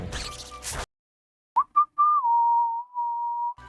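A person whistles a few short, pure notes and then holds a steady tone, clear and close, after a brief burst of noise and a moment of silence.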